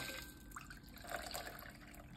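Hibiscus martini splashes and trickles into a glass in a short, uneven pour, close and fairly quiet.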